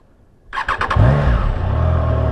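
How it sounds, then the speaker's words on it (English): A Triumph Tiger Sport 660 motorcycle engine starts up close by, with a short rapid starter whir followed by the engine catching and settling into a loud, steady idle. "Start the bike."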